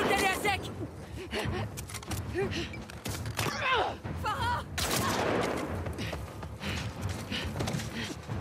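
Hunting rifle gunfire in the video game The Last of Us Part II: several sharp shots ring out amid dense combat noise, creaks and gasps, with voices speaking over the action for most of the stretch.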